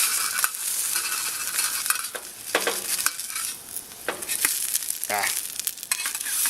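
Grits and bacon frying in a mess kit pan, with bright continuous sizzling, scattered crackles and pops, and occasional metal scrapes from stirring, fairly close and loud, with no talking.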